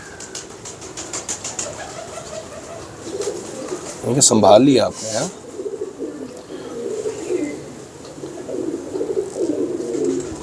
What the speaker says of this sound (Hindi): ये बड़ा स्मार्ट और बड़ा अच्छा कबूतर है।